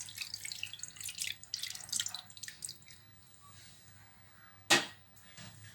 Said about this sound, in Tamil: இந்த மீனில் நம்ம இந்த கரைச்சி வச்ச புளியை ஊற்றுறோம்